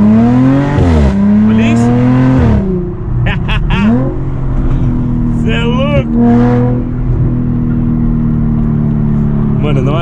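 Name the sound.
Audi A7 with straight-pipe exhaust revving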